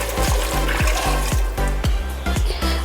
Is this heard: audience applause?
no